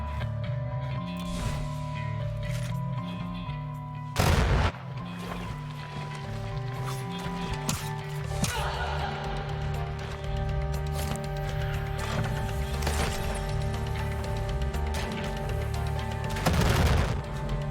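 Shotgun blasts in the Weird West video game: a few loud, sharp booms spread irregularly across a long stretch of game music and ambience, with one big blast early and another near the end.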